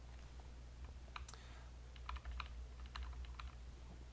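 Soft, close keystrokes on a computer keyboard while an Excel table is edited, a sparse run of separate taps and short clusters over a low steady hum, no voices.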